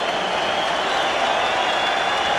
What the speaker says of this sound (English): how about a round of applause for two heavyweights who came here to fight for all the fans here in Norfolk